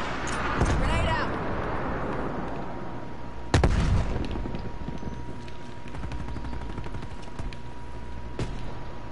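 A grenade goes off during a shooter match near a tower: a sharp early blast and a stronger boom a few seconds later, amid scattered gunfire and voices talking throughout.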